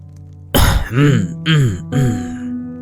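A person clears their throat several times in quick succession, close and loud, with short rough vocal bursts.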